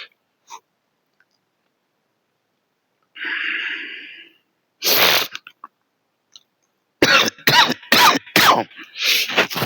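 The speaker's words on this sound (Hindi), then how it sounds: "सॉरी, माफी चाहूंगा, कुछ खांसी हल्की सी।" A man gives a light cough and clears his throat between pauses, followed by a few rapid rough bursts, close and moderately loud with no other sound around.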